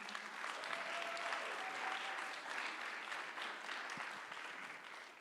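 Sustained applause from a TEDx conference audience, steady and full across the whole stretch, with a faint held tone running underneath.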